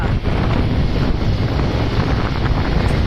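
Wind blows hard across a mountain road near Valparai, buffeting the microphone with a loud, steady rushing rumble that continues throughout.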